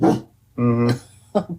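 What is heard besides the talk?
dog barking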